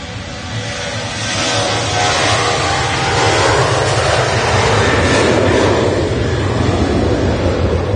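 An airliner on the Faro flight at Manchester Airport during windy Storm Otto, its broad engine roar swelling and holding steady amid gusting wind noise, fairly loud and mid-distance.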